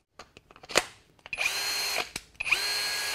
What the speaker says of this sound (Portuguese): É show de bola essa parafusadeira.